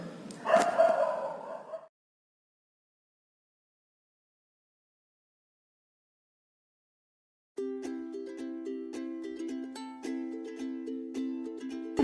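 A dog gives one brief bark, followed by several seconds of silence before a steady music track begins.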